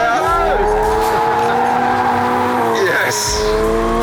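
A Toyota GR86 is driven hard, its engine revving loudly up and down as the tires squeal through corners, close and intense, with voices talking over it.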